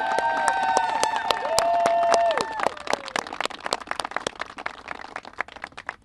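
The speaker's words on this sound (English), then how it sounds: "Can we get one more round of applause for Representative Al Green?" A rally crowd applauds Representative Al Green at an event on impeaching President Donald Trump, with scattered sharp claps over sustained tones at first, then thinning into sparser clapping that fades toward the end.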